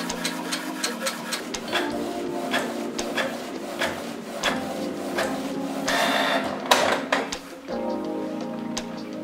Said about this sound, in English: First, I will print in mono, black and white document.